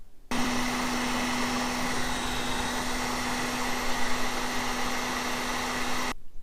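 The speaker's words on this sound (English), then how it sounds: "Got myself a heat gun. I'm going to heat the area because science says that heat will expand the aluminum" Heat gun blowing on the aluminum intake manifold of a 1991 Pontiac Firebird Trans Am, a steady loud whooshing roar with a constant motor hum, switching on abruptly and cutting off near the end.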